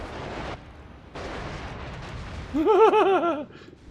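Naval gunfire in World of Warships: rumbling bursts of distant cannon fire and explosions, followed by a warbling siren-like alert tone near the end.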